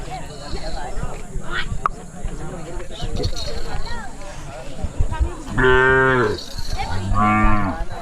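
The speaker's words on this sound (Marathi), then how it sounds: "अडतीस महिन्याची गाय आहे" A Khillar cow, 38 months old, lets out two long, loud moos near the end at a cattle show, over a background of chatter and farmyard noise.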